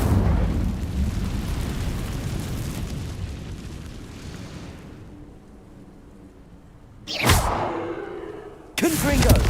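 Hogwarts Legacy's Incendio fire spell cast in combat: a broad roaring whoosh of flame that fades over several seconds, followed by two sharp, bright bursts.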